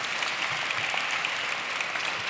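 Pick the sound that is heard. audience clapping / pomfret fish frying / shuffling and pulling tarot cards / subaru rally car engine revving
audience clapping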